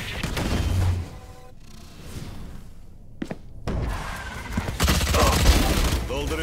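Bursts of automatic gunfire in the tactical shooter Valorant. Several loud sprays are broken by short pauses and a sharp thunk, and the clatter grows denser toward the end.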